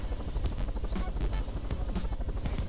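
Helicopter in the video game Totally Reliable Delivery Service, a loud, steady rotor chop with a constant engine drone throughout, close and continuous.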